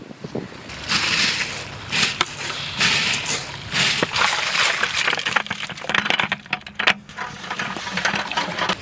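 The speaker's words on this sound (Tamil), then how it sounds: "தண்ணி நல்லா கொதிச்சுது. பாசுமதி அரிசியும் சேர்த்துக்கொள்வோம்." Basmati rice tumbles into a big pot of boiling water for a village fish biryani, giving a dense, close bubbling and sloshing with scattered sharp splashes and grainy rattles throughout.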